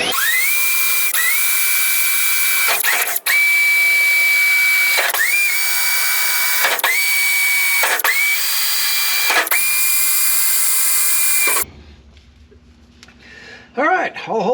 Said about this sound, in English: So I'm going to drill pilot holes up through each one of these spot welds